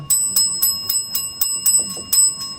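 A small fidget bell rings in a steady series of about ten bright, metallic dings, evenly spaced and close, with no voices over it.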